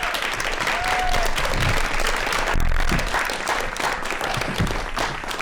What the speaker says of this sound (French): On peut déjà l'applaudir.